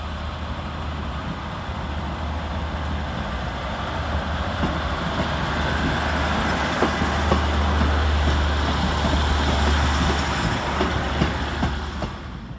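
A Class 156 diesel multiple unit, 156.402, pulls out of Preston station with a low, steady engine drone that slowly builds, heard alone against a broad hum from the station.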